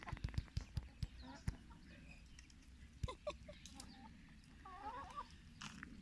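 German-breed chickens clucking and calling in a yard, with a run of sharp knocks or pecks at the start and scattered soft bird calls, fairly faint and somewhat distant, with a little quiet talk in the background.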